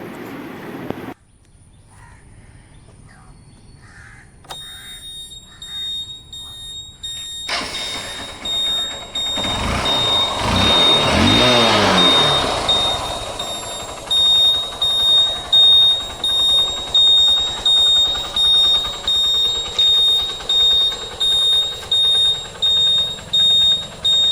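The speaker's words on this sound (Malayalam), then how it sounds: "വണ്ടി ഒന്ന് സ്റ്റാർട്ട് ചെയ്തിട്ട് അതിൻ്റെ എൻജിൻ സൗണ്ടും കൂടെ ഒന്ന് കേട്ട് നോക്കാം" A Honda Unicorn motorcycle engine starts up and runs close by, rising to a loud rev before settling into a steady idle with regular throbbing pulses.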